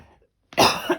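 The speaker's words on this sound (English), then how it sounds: "I am going to cough." After a short silence comes a single close, harsh adult cough, loud and abrupt, with a smaller second burst at its end.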